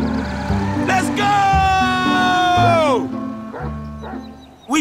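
Chop, the Rottweiler in GTA 5, barking and yipping in short close bursts while a sustained tonal sound and music play underneath.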